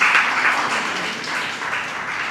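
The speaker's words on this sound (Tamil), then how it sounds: "உங்களுடைய உற்சாகமான கரகோஷம்." A school audience at a debate competition claps enthusiastically, a steady, full wash of applause that carries from start to finish without pause.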